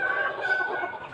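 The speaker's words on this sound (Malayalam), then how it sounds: "ഇതെല്ലാം കരിങ്കോഴികളാണ്," Black country chickens on a small home farm cluck close by in a brief, continuous burst of overlapping calls.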